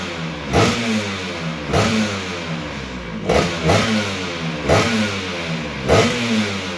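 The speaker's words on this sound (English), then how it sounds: "Once the bike was wired up and put together, it was ready for a first kick." A Vespa-style Stella LML scooter fitted with a Malossi VR-One 221cc engine revs up and drops back in repeated regular blips, loud and close, with no talk.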